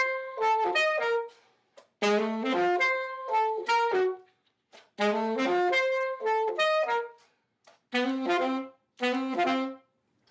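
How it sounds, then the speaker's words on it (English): An alto saxophone plays a lively phrase in short bursts of quick notes separated by brief pauses, clear and close. "That was the sound of an alto saxophone."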